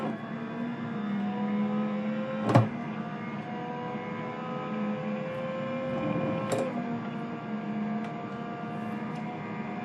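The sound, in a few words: BMW race car engine revving, blipping throttle on gear changes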